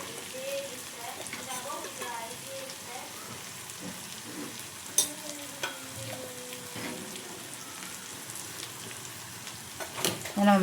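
Tomato masala fries in a pan with turmeric and kuzhambu chilli powder for a crab curry, giving a soft, steady sizzle with occasional spoon taps and stirring scrapes while someone talks over it.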